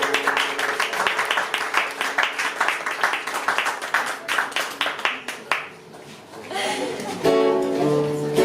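An audience at a slam poetry evening in Nice applauds loudly with rhythmic, rapid clapping that fades near the end, as music and a voice come in over the dying claps.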